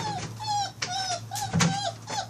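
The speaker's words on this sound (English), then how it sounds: "because she heard the puppy crying" A puppy cries and whimpers in a series of high, wavering whines, close by, with short pauses between each plaintive cry.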